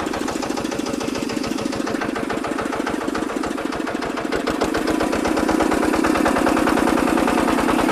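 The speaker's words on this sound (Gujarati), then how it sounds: "ટ્રેક્ટર અત્યારે આપણું ચાલુ થઈ ગયું છે" A small, narrow farm tractor engine runs steadily nearby, its rapid even chugging pulse continuous throughout and growing slightly louder toward the end, with no talking.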